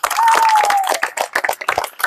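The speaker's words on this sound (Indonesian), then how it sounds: "tepuk tangan untuk kita semua" A classroom of young pupils claps for themselves after a head-shoulders-knees-and-toes song during a lesson, a brief burst of close, ragged hand claps thinning into scattered individual claps.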